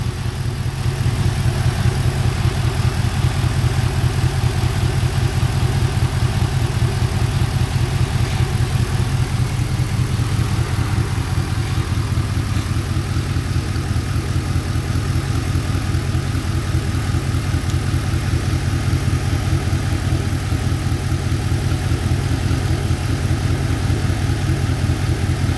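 A Chevrolet LS4 V8 idles steadily up close with one cylinder running cold, giving a continuous loud low rumble with a slightly uneven pulse and no revving throughout.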